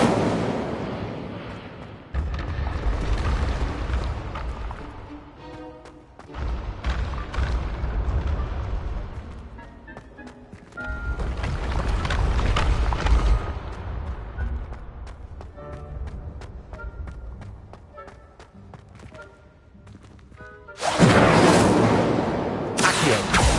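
Fiery spell blasts and rumbling booms from the Hogwarts Legacy video game, with loud surging bursts and crackling impacts layered over a continuous battle din.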